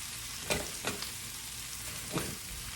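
Swiss chard sizzles and fries down in a pan with a steady hiss, broken by three soft stirring scrapes of a wooden spoon.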